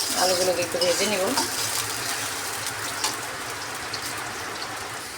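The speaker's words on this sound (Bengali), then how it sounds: "আলুগুলোকে একটু ভেজে নেব" Small diced potatoes frying in oil seasoned with cumin seeds in a kadai, a dense close sizzle that stays steady and loud, with brief voice-like tones near the start.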